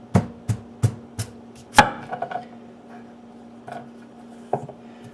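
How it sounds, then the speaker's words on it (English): A knife chops through tough butternut squash on a board in rapid, sharp thuds, several evenly spaced strikes at first, then scattered softer cuts and scraping, close and clear with no talking. "time to hack up a butternut squash"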